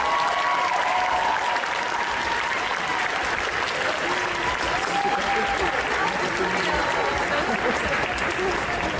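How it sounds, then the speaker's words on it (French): Audience applause at an indoor competition awards ceremony, a dense, steady roar of many hands clapping continuously at close range with no letup. "un bruit de tonnerre d'applaudissements"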